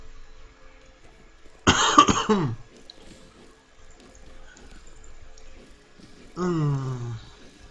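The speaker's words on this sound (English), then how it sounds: "there's apologies for any coughs" Two separate bursts of harsh coughing from a single person, each lasting under a second and set several seconds apart over a quiet background.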